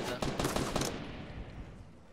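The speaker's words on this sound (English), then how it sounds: "I was shooting at the guy on top" Rapid automatic gunfire in Fortnite rattles off in a quick burst of about five shots, then a fading echoing tail.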